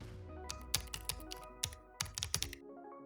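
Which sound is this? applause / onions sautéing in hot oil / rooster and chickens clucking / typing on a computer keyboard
typing on a computer keyboard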